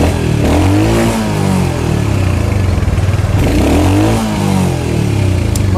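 A Royal Enfield motorcycle in near-new condition is started and revved, its mid-pitched engine rising and falling through several throttle blips over a steady thumping idle, loud and close with no talking.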